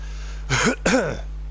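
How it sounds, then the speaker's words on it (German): A game character in the video game Chernobylite gives two rough, harsh coughs in quick succession, loud and close over a low steady background hum, with no talking. "Jetzt kommt der Husten."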